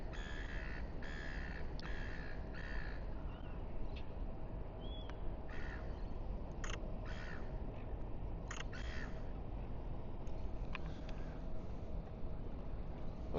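Harsh seagull calls in short bursts ring out over a steady wind-like rumble in Sydney Harbour, repeating irregularly at a moderate distance.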